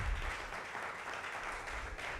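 A live audience claps for a special guest at an open mic during the NTA Awards 2024, producing a steady, dense wash of applause that holds evenly throughout with no voices over it.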